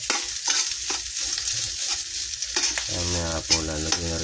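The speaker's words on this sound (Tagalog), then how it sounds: "Nilagay na po natin sinangag. Kasama na yung bawang." Rice and garlic stir-fry in a pan with a loud, continuous sizzle broken by scraping strokes of a utensil, and a voice briefly sings or hums under the frying toward the end.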